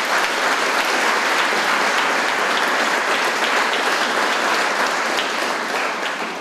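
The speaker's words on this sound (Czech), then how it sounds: "Prosím, potlesk." Audience applause at a local awards ceremony honoring young dancers, loud continuous clapping from many hands, steady and full before easing slightly at the end.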